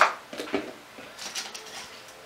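A spoon clinks against a small container a few times, light metallic taps and scrapes up close, while preparing a hot coconut oil bath for hair.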